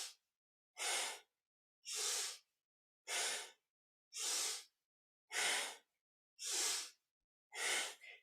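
Rhythmic breathing during a kundalini yoga exercise: eight forceful, breathy exhales at regular intervals of about a second, each separated by silence, with no voices.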